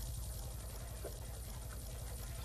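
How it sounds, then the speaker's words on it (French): Helicopter in the Roblox game Brookhaven, a steady rapid rotor thumping with a continuous engine whine, close and constant throughout. "Là, je prends l'hélicoptère."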